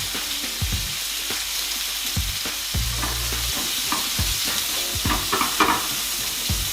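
Onions seasoned with salt sizzle softly in a pan for a burger, with a spoon stirring and scraping at intervals over a continuous steady crackle.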